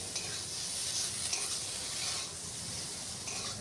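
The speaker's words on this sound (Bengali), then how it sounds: "খুব ভালো করে মশলার সাথে সবজিগুলো একটু নাড়াচাড়া করে নিলাম।" Vegetables with spices and green chili stirred in a hot pan alongside pumpkin leaves and rohu fish, a steady close sizzle with scraping and stirring throughout, no voices.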